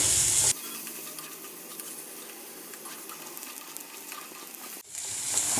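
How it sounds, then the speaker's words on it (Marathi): Chopped onion and curry leaves fry in oil in a pan for a chicken dish, a steady even sizzle under a cut-in segment, close and moderate, with no talking. "त्यातच आपण कढीपत्ता घालणार आहोत आणि व्यवस्थित हा कांदा आपल्याला भाजून घ्यायचा आहे"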